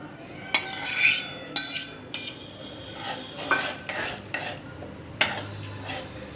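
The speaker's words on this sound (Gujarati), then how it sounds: "હવે આપણે બટેટા નાખીશું" Boiled potatoes go into a pan of pav bhaji with peas, bringing a few sharp metallic clanks of a spoon against the pan, then steady scraping and stirring with a faint hiss underneath; no one talks.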